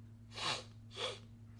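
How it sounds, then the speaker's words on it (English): Two short, sharp breathy bursts close to the microphone, like a stifled sneeze and snort, over a low steady electrical hum. "I gotta sneeze."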